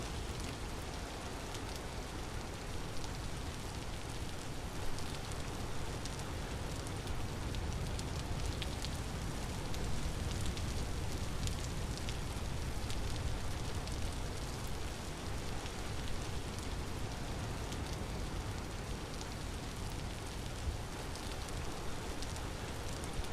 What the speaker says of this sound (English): Gosh, this rain is horrid.